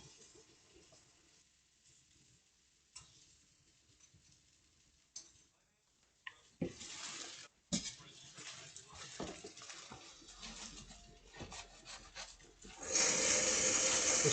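Washing up with soap and water at a kitchen sink: quiet clinks and scattered handling noises, then water runs loud and steady at the end.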